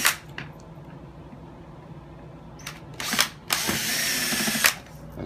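Power drill backing out long screws that fasten a chair back to its seat, heard as a couple of short whirring bursts around three to five seconds amid quiet handling noises.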